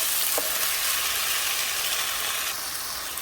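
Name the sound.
ginger and tomatoes sauteing in a pan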